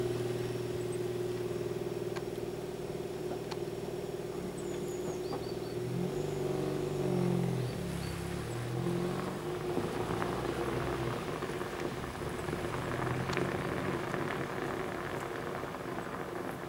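A 2009 Ford Fiesta on a test drive near Borgsdorf, its engine and road rumble running steadily and continuously from inside the car, with no one talking.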